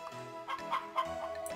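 Chickens cluck in Harvest Moon: Back to Nature, a short run of soft, clipped clucks over quiet game background music, with no talking.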